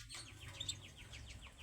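A canary, a dark-and-white loper variety, chirps in a quick series of faint, rapid repeated notes over a low background hum, with no one speaking.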